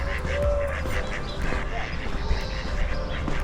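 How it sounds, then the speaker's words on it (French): Ducks quack along a coastal hiking trail on Ibiza, a few short calls mixed into moderate outdoor background noise, with a voice speaking briefly. "Salut les canards."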